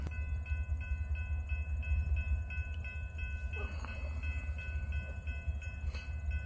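Norfolk Southern train 268 rumbles past at restricted speed, about 25 mph, near Fraley Road outside Saline, Ohio, with a deep, steady low roar, while a regular mechanical tone repeats and faint squeals ride over the noise.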